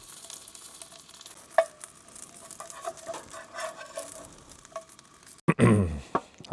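Tofu bacon cooking on a camp stove outdoors at a campground, a faint, patchy sizzle with a few scattered clicks and taps, followed near the end by a sudden louder burst of clattering and crackle.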